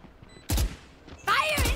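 Gunfire in the tactical shooter Valorant: two short, loud bursts of rapid shots close by, separated by a brief pause.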